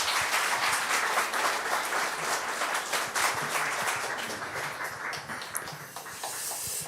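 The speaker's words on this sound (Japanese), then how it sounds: "拍手で迎えたいと思います" Congregation applauding to welcome a guest pastor at a Sunday worship service at Onnuri Church Osaka, a sustained room-wide clapping that stays fairly even and slowly tapers, with no voices over it.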